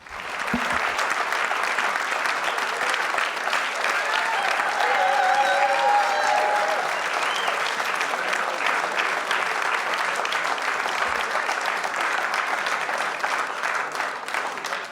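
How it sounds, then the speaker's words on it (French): At the Personnalité de la Côte 2015 award ceremony, an audience in a hall gives a sustained round of applause: dense, even clapping lasting about fifteen seconds at a fairly loud, constant level, with a brief voice near the start. "Je vous demande d'applaudir Didier Laurie."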